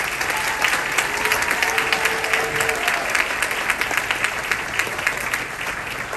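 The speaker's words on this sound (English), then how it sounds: "That deserves a round of applause." A large audience at a political event applauds steadily, a dense, sustained wash of clapping that stays loud and even throughout with no speech over it.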